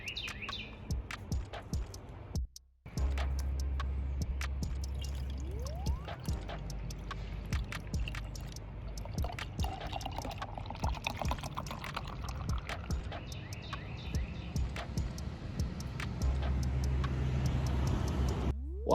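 Pastry Snake, a pastry stout from District 96 Beer Factory, is cracked open and poured into a mug, giving a steady mid-level pour that runs for most of the stretch, with a brief gap near the start.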